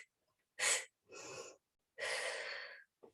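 Forceful breaths pushed out during a Pilates glute, shoulder and oblique workout: three loud, breathy exhalations, the first short and sharp, the second steadier, the third long and drawn out, with a brief fourth puff at the end, no talking.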